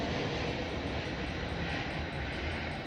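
Airplane passing low over a house near an airport, a loud continuous broadband roar with a steady hiss holding throughout, no voices over it.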